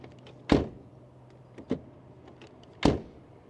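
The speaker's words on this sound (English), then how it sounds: "I would say it's okay, the door closing sound" Doors of a Volvo SUV being shut, three separate solid thuds, close and clear, with quiet pauses between them and no talking.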